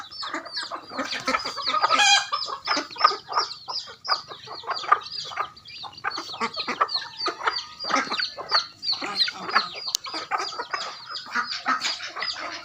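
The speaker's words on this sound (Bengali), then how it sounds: "এই যে দেখেন মুরগি।" A large flock of chickens pecking at scattered rice in the morning fills the air with dense, overlapping clucks and squawks, close and busy throughout, with no talk over them.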